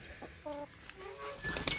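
Young hens cluck softly in short bursts, a few tonal calls rising and falling close by, with a brief squawk near the end.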